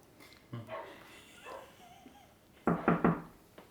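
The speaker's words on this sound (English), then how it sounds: "Before the dog starts again." A dog barks in short bursts indoors, a soft yelp early on and then three louder, closer barks in quick succession near the end, with no talk over them.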